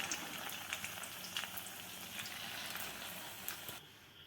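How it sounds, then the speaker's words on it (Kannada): Rice and potato bondas frying in hot oil, a steady soft sizzle and crackle with scattered bubbling pops throughout, fairly quiet and close, with no voices. "ಕಾದಿರೋ ಎಣ್ಣೆ ಒಳಗೆ ಸಣ್ಣ ಸಣ್ಣ ಬೋಂಡ ಶೇಪ್ನಾಗ ಹಾಕೋಬೇಕು."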